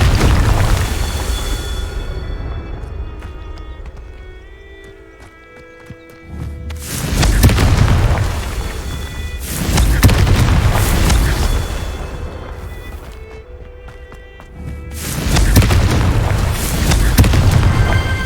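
Incendio, Flipendo and Confringo spells go off in turn in Hogwarts Legacy: three loud booming blasts, each rolling away, separated by quieter stretches of game ambience.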